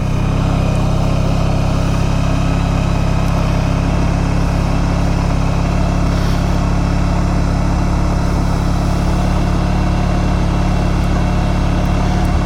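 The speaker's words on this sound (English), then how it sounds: "So it's the first time I started the bike in 2 days." A 1994 Honda ST1100 motorcycle engine runs steadily at idle, a continuous low rumble that stays close and loud for the whole stretch with no speech over it.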